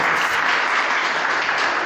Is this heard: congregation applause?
yes